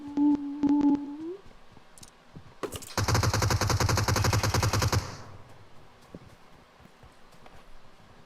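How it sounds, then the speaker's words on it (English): Video game gunfire from a Tommy gun, a sustained rapid burst of automatic shots lasting about two seconds, preceded by a few scattered single shots and a short voice, then quieter game noise. "Are they shooting it? Keep that Tommy gun."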